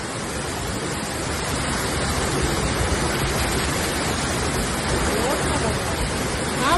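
Water blasting under high pressure from a burst water pipeline in Andheri's Adarsh Nagar, Mumbai, a loud, steady roaring rush with no pause, heard close and alone throughout.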